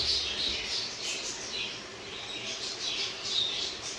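A pet parrot squawks repeatedly in short, shrill bursts spread across the clip. The calls are moderately loud and sit over a steady background hiss, with no talking.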